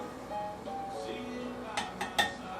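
Metal pan lifted and handled on a stovetop while cooking, a few light clinks and scrapes rising near the end over steady kitchen background noise.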